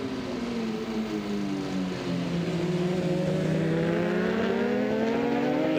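A BMW race car drives on a wet racetrack, its engine a steady, sustained drone with pitch slowly falling and then climbing as it pulls up alongside a rival, loud and continuous with no talk.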